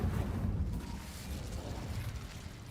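An Incendio fire spell in Hogwarts Legacy bursts out as a low, rumbling whoosh of flame, loud and close, fading into a steady roar.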